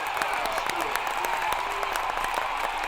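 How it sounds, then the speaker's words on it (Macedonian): A crowd at a political rally in North Macedonia gives steady applause, with many hands clapping evenly under a noisy crowd backdrop while voices talk over it. "Аплауз"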